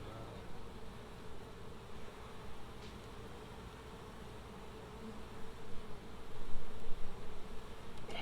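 Honeybees buzz around an open hive late in the day, forming a soft, steady drone of many wings, faint and close, swelling slightly near the end with no voices.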